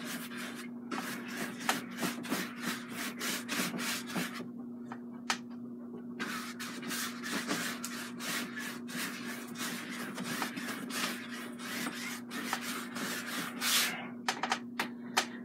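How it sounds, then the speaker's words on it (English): A brush scrubs liquid clear medium onto a canvas in quick, steady back-and-forth strokes, close and fairly loud over a constant low hum, with short pauses between bursts of strokes. "Scrubbing some liquid clear on here."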